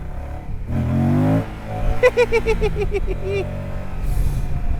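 An adventure motorcycle's engine revs hard on dried-out roads, a low steady drone rising into a sharp, stepped climb of rising whines through the gears, close and loud under wind noise.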